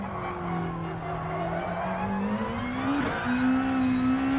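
Engine of a 2016 Nissan GT-R Gr.2 race car in GT Sport at Suzuka, a steady droning whine that rises in pitch as the car powers out of a corner with the rear wheels spinning, loud and continuous with no talk.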